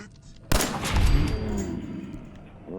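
A single sharp, loud gunshot from a firearm aimed at an enemy in Fallout 4, played on Survival Mode, with a long reverberant tail fading afterward and no voices over it.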